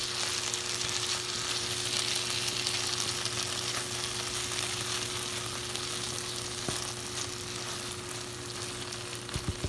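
A quinoa dish fries in a pan that has been heating for several minutes, giving a steady, close sizzle that continues without a break and with no voices over it.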